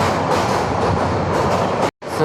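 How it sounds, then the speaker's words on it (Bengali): Passenger train in Bangladesh, heading toward Bhairab, slowing down: a steady loud rumble and rattle of wheels and carriage, briefly cut by a sudden gap near the end before the noise resumes. "ট্রেন মনে হয় এখন থামবে, আস্তে আস্তে স্লো করছে, অনেক স্লো করে ফেলেছে"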